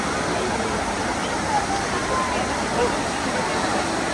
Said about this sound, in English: here we are at the Trevi Fountain, most famous fountain in the world